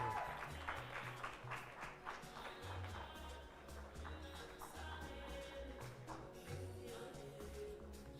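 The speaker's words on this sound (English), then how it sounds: "Please clap for Emily." An audience at a graduation ceremony claps throughout, a dense steady patter of many hands under a continuous murmur of the crowd, with no clear pause.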